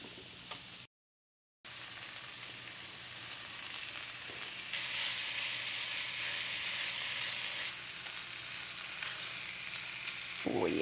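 Sausage fries in a pan with small onions, a continuous close sizzle that grows louder and brighter partway through, then eases back, with no one speaking.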